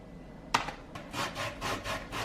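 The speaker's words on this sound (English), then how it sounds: "Just look how he grates that orange." An orange peel is zested on a grater in a home kitchen: a sharp knock, then a run of soft, rhythmic scraping strokes, close and fairly quiet.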